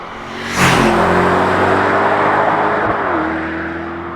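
Mercedes SL63 AMG with a 4-litre V8 biturbo engine revs sharply to a loud, close roar, holds a high steady drone for a couple of seconds, then eases back to a lower hum.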